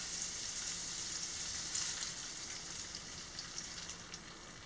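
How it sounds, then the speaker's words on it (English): Steady, soft crackling sizzle of eggs frying in a pan on medium-high heat, continuous and even throughout. "That ought to slow down the sizzle a little bit."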